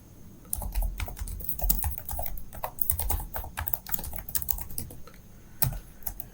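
Rapid, steady keystrokes on a computer keyboard as a Java program is written, close and clear with an irregular rhythm of light clicks and occasional heavier thumps, no voices.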